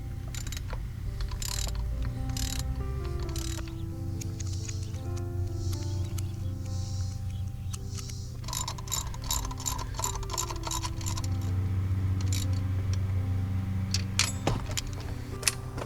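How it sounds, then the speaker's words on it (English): Ratchet clicking in a steady rhythm while alternately tightening the thermostat housing bolts on a 2011 Mercedes E-350, with metallic jangling and clicks over a continuous low engine-bay hum, fairly close. "Alternate the tightening of the bolts."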